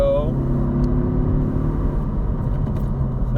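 A 2019 Honda Civic Si coupe accelerating, a steady low engine drone heard from inside the cabin for a few seconds, with a brief higher tone at the start.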